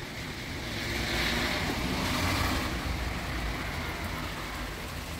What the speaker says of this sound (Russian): Вот опять ветер поднимается.